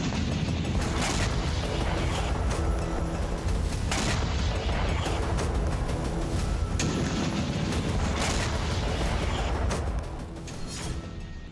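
Loud, dense rumbling with several heavy booming Iskander missile blasts at irregular intervals on a military depot, each a sharp crack that rolls on, fading slightly near the end.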